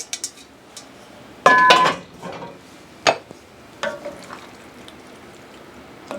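Egg noodles are stirred into a skillet supper, with a loud metallic scrape and clink of utensil against the pan followed by softer, scattered stirring knocks.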